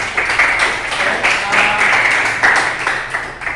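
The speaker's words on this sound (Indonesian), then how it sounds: "Beri tepuk tangan untuk kelompok 2" A classroom group claps for a presenting team, a dense burst of applause that holds steady and close for a few seconds before easing.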